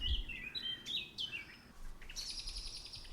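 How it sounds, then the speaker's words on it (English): Sharp, high blackbird alarm calls chatter in short bursts against a steady outdoor background, with a clearer series of chirps toward the end. "apparently I'm hearing a blackbird alarm call"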